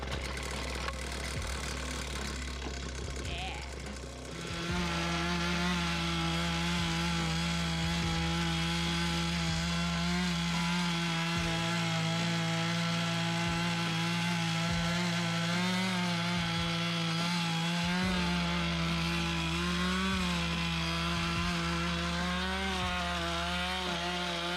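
A pull-start small engine runs steadily and loudly after many pulls and carburetor adjustment, idling with a constant buzzing drone at a rough, slightly wavering pitch and no voices over it.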